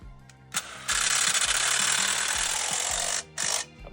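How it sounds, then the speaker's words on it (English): A power drill runs in long sustained bursts, raising the stabilizer jacks on a camper trailer with a drill bit that fits all the jacks, close and loud, with short pauses between runs. "I can just use my drill to go up and down easily."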